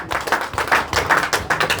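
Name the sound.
audience clapping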